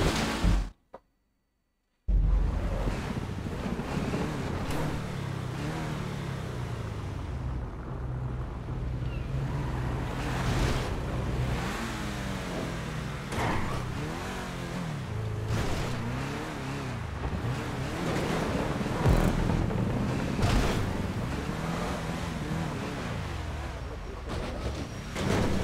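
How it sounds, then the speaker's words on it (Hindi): A car crashes into water in the GTA 5 video game, heard as a sudden splash after a brief silence, followed by continuous rushing water, waves and a sloshing vehicle rumble throughout. "अरे पानी में पड़ रही गाड़ी यार।"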